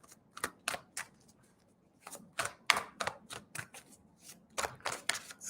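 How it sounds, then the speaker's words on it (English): Tarot cards are riffled and shuffled by hand during a live reading, close and fairly soft. The sound comes as repeated quick papery bursts in irregular clusters, with brief pauses between runs and no talking. "Just giving these a really good shuffle for you."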